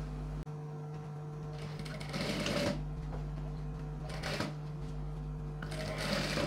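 A sewing machine stitching silk pattu pavadai fabric runs in steady mechanical bursts with a constant low motor hum, the needle chatter rising and stopping in short runs, close and fairly quiet.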